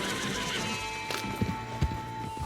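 A horse in the Red Dead Redemption 2 video game whinnies over a dense wash of game sound, followed by a few heavy hoof thumps and snorts close by.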